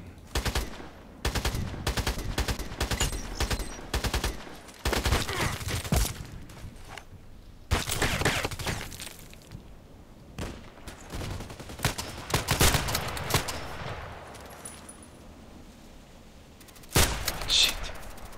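Repeated bursts of gunfire from a night match on the Old Sawmill map, loud volleys and rapid automatic fire in irregular clusters with brief pauses, some shots sounding nearer and some farther off.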